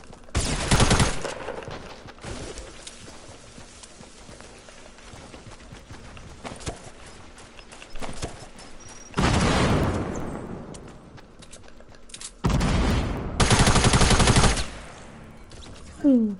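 SMG gunfire in Fortnite crackles in several loud, rapid bursts, one short at the start, then longer sustained sprays later, separated by quieter game ambience.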